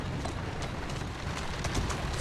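Steady clip-clop of a horse's hooves at a trot in the video game Assassin's Creed Syndicate, faint and continuous against low background noise.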